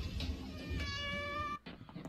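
A cat gives one clear, drawn-out meow close by, preceded by faint rustling and followed by a short quiet gap and soft handling noise.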